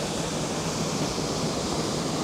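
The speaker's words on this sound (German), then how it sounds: "Dann läuft der Bach hier durch." A stream runs through at the Trusetal waterfall in a continuous, even rush of water. The sound is close and fairly loud, with no voices.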